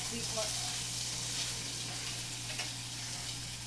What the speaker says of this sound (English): You will start hearing, I'm hearing some of the sizzle